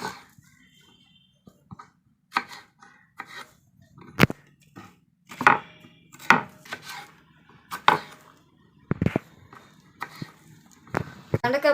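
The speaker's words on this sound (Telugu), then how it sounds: "బెండకాయ పులుసులో ఫ్రెండ్స్ ఇలా పెద్ద పెద్ద ముక్కలు కోసుకోవాలి" Okra being cut into large pieces with a knife on a board, about a dozen sharp, distinct chops at an uneven pace, close and clear with quiet gaps between them and faint background sounds.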